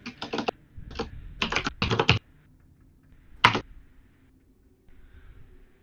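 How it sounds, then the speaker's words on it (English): A computer keyboard is hammered hard in loud, clattering bursts of rapid keystrokes, with short pauses between runs and a final single heavy strike, close up and otherwise quiet. "that was some hard typing."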